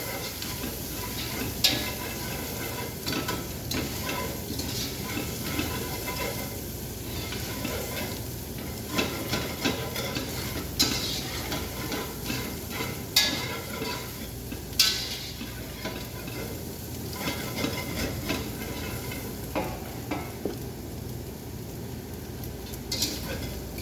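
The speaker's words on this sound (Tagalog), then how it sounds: "Lagay na natin itong ating ginadgad na bawang." Grated garlic sizzles steadily in a hot pan while being stirred, a continuous crackling fry with scattered utensil scrapes and taps against the pan, close and even throughout.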